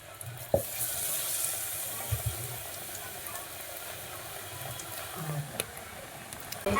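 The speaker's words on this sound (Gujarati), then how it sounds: "પકોડા હવે તળાઈ જશે" Pakoda frying in hot oil gives off a steady, faint sizzle with a few soft clinks and knocks from the pan or utensils. No voices are heard.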